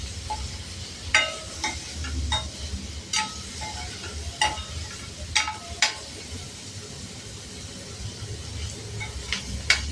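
Paneer cubes stirred and fried in a pan for restaurant-style paneer do pyaza, with a steady low sizzle under repeated sharp clinks and scrapes of a spoon against the pan, close and fairly even throughout.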